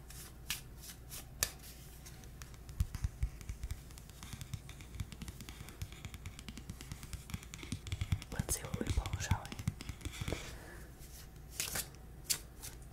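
Close, crisp riffling of a tarot card deck being shuffled in brief flurries, with soft whispered speech running alongside and a busier, louder patch of card handling near the end.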